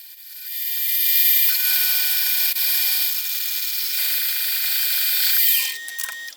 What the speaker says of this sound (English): for those thin pieces of steel, I'll skip using the face mill and only use the fly cutter